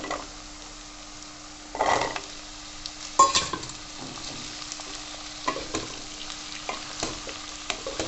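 Potatoes frying in a pan for aloo methi, a low steady sizzle broken by several distinct scraping stirs of a utensil against the pan, close by and without talk.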